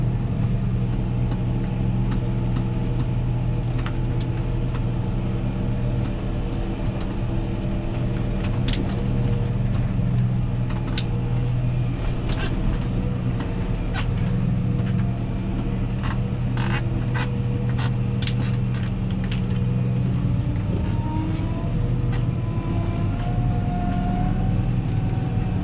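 A Fendt 516 Vario tractor engine hums steadily at low revs while pulling a Pöttinger Euro TOP 461 N rotary rake through hay, a continuous close drone with faint scattered ticks and rattles, no voices.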